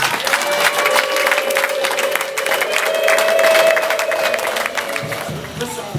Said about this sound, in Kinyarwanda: mutanga amashyi n'impundu mushimira abaje kudutegera ibiganza